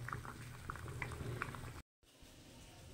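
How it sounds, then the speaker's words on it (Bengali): Vegetable curry with bottle gourd greens, green chillies, salt and turmeric boils in a pan, a close bubbling simmer with soft popping bursts, briefly cut to silence before continuing. "এখন এটা একটু ফুটুক।"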